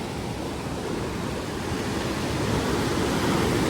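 Water rushes hard through a canal split into eight channels, a loud continuous broadband roar that holds steady and swells slightly toward the end, with no voices.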